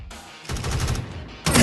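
Gunfire from the FPS Robot Strike Mission shooting game: a quiet lead-in, then a loud burst of rapid shots, a brief lull, and a sharper, louder volley at the end, with no talking.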